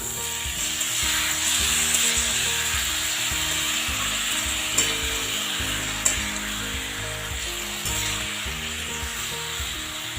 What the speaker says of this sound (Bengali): আমি টমেটো গ্রেট করে রেখেছিলাম, এটা দিয়ে দিলাম। ভালো করে মিশিয়ে নেব।